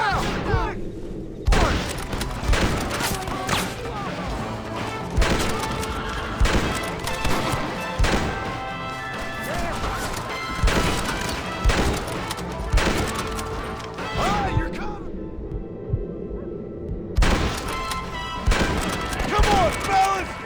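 Gunfire in a video-game shootout from Red Dead Redemption, played on PS5: loud, repeated shots and crashing impacts in irregular volleys throughout, with shouted character dialogue and a musical score underneath.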